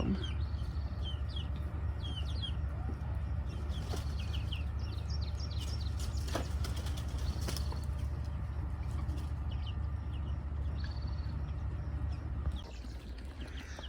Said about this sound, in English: And there's the baby chicks. Not so babies anymore.